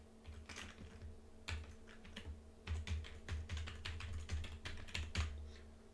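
A password is tapped out on a computer keyboard while logging in to a Windows Server 2022 system, a steady run of soft, quick keystrokes in uneven bursts over a low electrical hum, with no one speaking.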